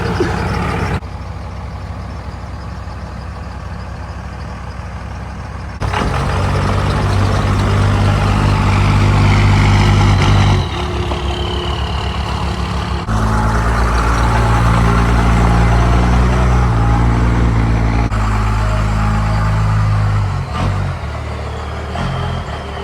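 A Dodge 12-valve diesel truck engine runs close by, rumbling and idling before surging into louder, heavier stretches that cut off and return several times.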